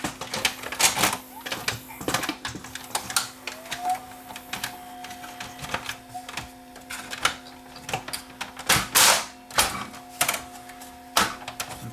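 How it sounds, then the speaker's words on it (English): A Samsung SV 5000 VCR's cassette mechanism loads a tape, giving a quiet run of mechanical clicks, clacks and whirring with a faint motor tone, close up and irregular. "see whether it will load and eject properly."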